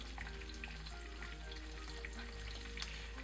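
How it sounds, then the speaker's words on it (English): Steaks fry in a pan while melted butter is spooned over them, giving a steady, close sizzle and crackle with small spitting pops throughout and no talk. "now that it's started to melt, you just start spooning this over the steaks to get it nice and moist"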